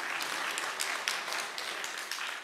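Steady applause from a sizable church seminar audience, many hands clapping at once in a dense, even wash of sound.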